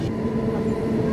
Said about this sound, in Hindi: यहाँ पे क्रॉसिंग हो रही है विद श्रम शक्ति एक्सप्रेस।